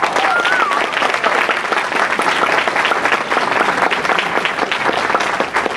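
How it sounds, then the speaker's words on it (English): Loud, dense audience applause fills a room at a graduation luncheon, continuous clapping from many hands sustained evenly for several seconds without talk over it. "I think we should give her a huge hand of applause"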